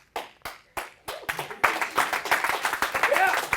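Students in a calculus lecture break into clapping, a few isolated claps at first that quickly swell into brisk, steady applause from the room, with some voices mixed in.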